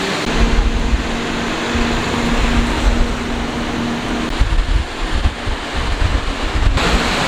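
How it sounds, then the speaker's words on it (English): Wind roars through a dark road tunnel under the rock of Monaco, a loud, broad, unbroken rush with low buffeting gusts and a faint passing hum. "Currently in a tunnel under the rock of Monaco. Quite dark and windy in here."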